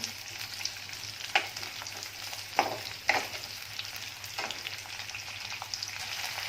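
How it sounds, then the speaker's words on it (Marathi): Chopped onion sautés in a pan with a soft, even sizzle, broken by a few sharp scrapes of a spatula stirring it. "कांदा आहे तो जरा एक दोन मिनटं फक्त परतून घ्यायचा आहे"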